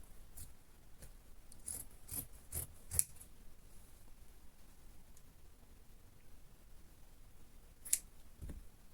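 Scissors snipping fabric for a kurti top, a series of sharp close cuts clustered early, then a quiet stretch and one final snip, faint and with no voices.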